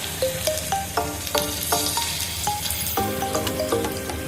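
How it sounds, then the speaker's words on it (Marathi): Onion bhaji batter dropped into hot oil, a steady crackling sizzle broken by small clinks and stirring sounds at a regular pace, close by with no talk. "तेल गरम झालं की नाही तर आपण थोडंसं टाकून बघू चेक करूया"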